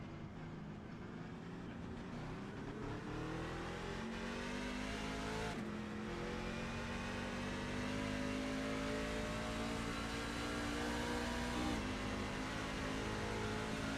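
Race cars roar around the track during a live ECRS Phils Towing Truck Series event, engines droning and shifting pitch continuously for the whole stretch, loud and steady with no pause.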